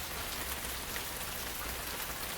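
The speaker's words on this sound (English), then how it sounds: "A soft, consistent drizzle that tapped gently against the window pane." Soft, steady drizzle patters on a window pane in an unbroken, even hiss with no voices, close and quiet throughout.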